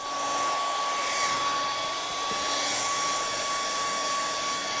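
A blower runs continuously and fairly loud to dry wet paint on an artwork, giving a steady airy rush with a constant whining tone throughout, with no talking over it.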